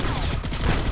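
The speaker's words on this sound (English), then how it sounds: "Oh, fucking sentry gun." Sentry gun in the sci-fi shooter game Space Beast Terror Fright fires a dense, continuous burst of rapid shots, loud and close throughout the brief moment.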